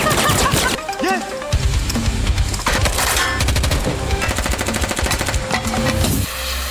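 Dense gunfire fills an action-film shootout, with rapid bursts of automatic fire and single shots crowding together, loud and up front, mixed with shouted voices and clatter.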